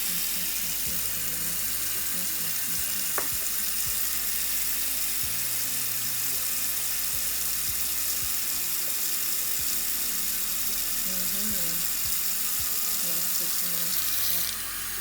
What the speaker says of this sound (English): we're gonna let the water run for a bit longer